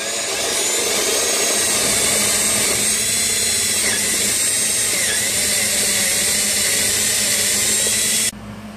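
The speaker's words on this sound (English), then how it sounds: "So what I'll do is I'll drill all four corners" Power drill boring holes through the wall of a vintage Santa Fe travel trailer, a loud continuous high whine held for about eight seconds before cutting off abruptly.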